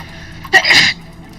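A single sharp sneeze bursts out, close and fairly loud, lasting under half a second, amid a tabletop roleplaying game session with quiet room tone around it.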